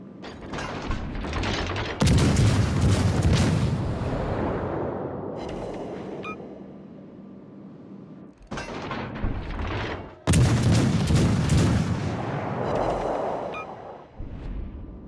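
Naval gunfire in the Azur Lane game as an enemy battleship is sunk: heavy booming salvos with mechanical, ratcheting clatter, two big loud blasts spaced apart, each decaying into rumble between bursts.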